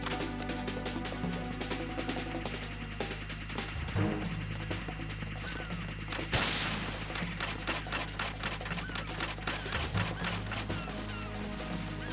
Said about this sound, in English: I like the sound the chaff grenades make.